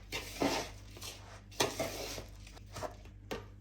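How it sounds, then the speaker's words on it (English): Flapjack mixture with golden syrup being stirred in a bowl, a few soft scraping and clinking strokes of a spoon against the bowl at an irregular pace, quiet and close. "And now, just need some golden syrup. And carry on mixing it."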